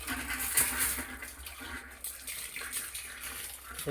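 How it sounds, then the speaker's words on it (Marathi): Water gushes steadily from a farm irrigation pipeline into a tank, a continuous moderate splashing hiss with no voices. "या पाईपलाईनमधून पाणी येत आहे"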